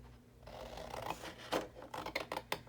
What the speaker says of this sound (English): So I think I'm going to cut this one out here